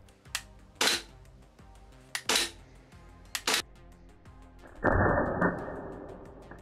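An Asia Electric G F17 gas blowback airsoft pistol fires several sharp cracking shots with brief gaps, close and loud, followed by a longer burst of rustling handling noise.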